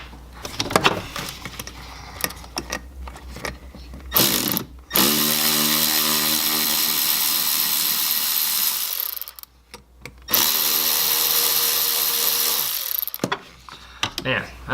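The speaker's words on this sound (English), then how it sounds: "I'm going to grab the electric ratchet now that we got them broken loose" Electric ratchet spinning out rusted screws on a Saab 9-3 sport sedan during AC evaporator replacement: two sustained loud whirring runs of about four and three seconds, with clicks and handling noises between them.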